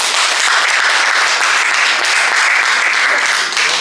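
Dense, loud applause at a private civil wedding ceremony in a town hall, continuous clapping from a small gathering filling the whole moment close to the listener.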